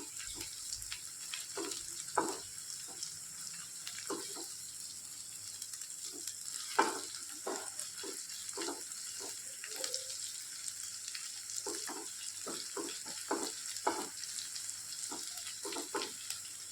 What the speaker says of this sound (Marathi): आल्या लसणाची पेस्ट घालते मी ती पण कांद्यासोबत परतली जाईल